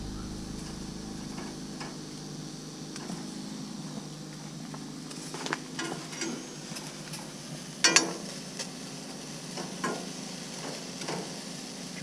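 Leftover steak and eggs frying in a pan give a steady low sizzle with soft scraping and stirring clicks, plus one sharper clatter midway, all fairly quiet and without talk.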